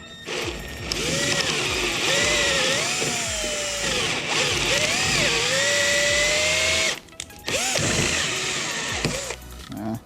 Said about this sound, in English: I could just drill out and rivet it in the way it's supposed to be